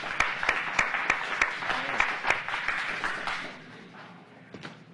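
Studio audience applauding for a musician at a TV show taping, a fairly dense round of clapping with sharp individual claps that thins out and fades toward the end.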